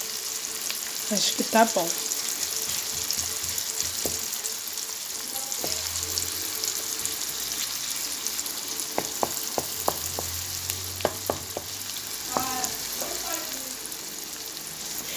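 Garlic and bell pepper fry in margarine in a pan before pasta goes in, giving a steady close crackling hiss throughout with occasional small clinks, while someone briefly speaks.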